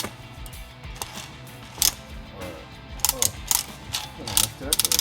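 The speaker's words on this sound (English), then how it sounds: "The settings are located here, so if you want a finer grain, you turn it." Grind setting dial on a Gourmia coffee burr grinder being turned by hand, giving a few close, sharp ratcheting clicks in short bursts over a faint background hum.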